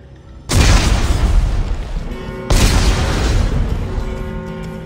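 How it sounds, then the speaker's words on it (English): Two heavy explosive detonations in Dead Space 3, each a sudden loud boom followed by a long rumbling decay, the second coming about two seconds after the first. "Computer, arm explosives. And detonate."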